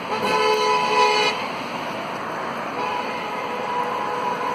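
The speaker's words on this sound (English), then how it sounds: "there's cars behind him and they can't pass him on either way. That's what the honking's all about." Car horns sound in congested traffic in China, a loud sustained honk at the start that cuts off, then lower road noise with fainter horn tones continuing through the busy street.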